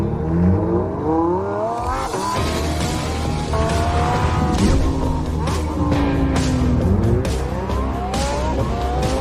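A Lamborghini car drives with a loud, continuous engine roar that climbs and falls through repeated revving sweeps. Tires squeal and the engine races as if on a track, dense and close throughout.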